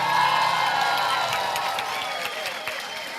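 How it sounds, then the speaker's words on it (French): An audience in a church claps and cheers loudly for children after an Easter show, a dense crowd of applause with a few whoops that tapers off slightly. "Je crois qu'on peut les applaudir encore une fois bien fort"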